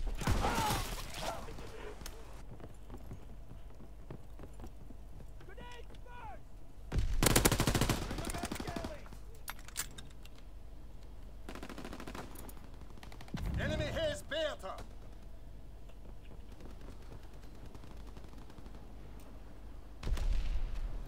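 Bursts of gunfire in Call of Duty WW2 multiplayer on a USS Texas map, three loud volleys spaced apart with quieter game sounds and radio-style voice lines between them.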